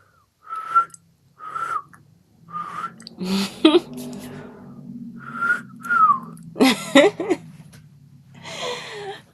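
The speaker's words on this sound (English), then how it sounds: "Let's see if I can whistle." A person whistles in short tentative bursts, several wavering notes with pauses, one rising note, and breathy attempts between them. The whistling is close and clear, with some breath and voice noise mixed in.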